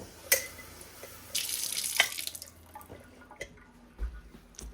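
Tap water pours briefly into flour while feeding a sourdough starter on a kitchen counter, a short splashing burst with a few drips and light clatter around it, close and moderately quiet.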